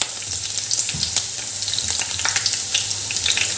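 Green chillies and garlic sizzle loudly in hot oil in a pan, a dense, steady frying hiss with faint stirring scrapes, close and continuous with no voices.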